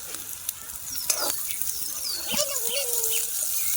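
Okra dropped into a hot pan in a village kitchen, bursting into a bright hissing sizzle with a few clanks of utensils, close and continuous, with a faint voice in the background.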